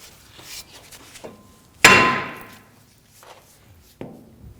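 A hammer strikes the front hub of a 2013-2015 Subaru XV Crosstrek to free the brake rotor: one loud, close metallic blow that rings out and decays, set between fainter, lighter taps.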